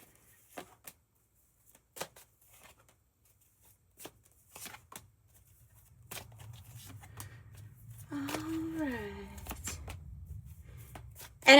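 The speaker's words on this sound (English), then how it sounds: "That was a horrible shuffle." Tarot cards from a pulp tarot deck riffled and tapped in scattered short bursts, close and crisp, then a longer rustling stretch with a brief voice partway through.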